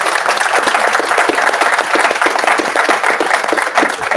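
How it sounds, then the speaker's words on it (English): Steady applause for panelists at a college athletics event: a continuous loud round of many hands clapping throughout, dense and even, with no voices on top. "Please give them a round of applause."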